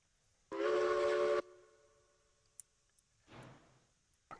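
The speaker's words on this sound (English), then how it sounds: "I can't remember the rules on the whistles." Steam train whistle in a railroad simulation game, one loud short blast followed by a fainter, breathier hiss of steam and a few small clicks in near silence.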